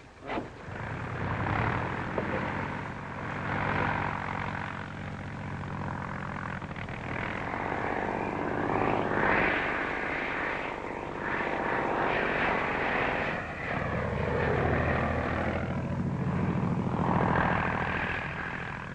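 A steady propeller airplane engine drones continuously at close range, a loud even hum that holds throughout with slight swells.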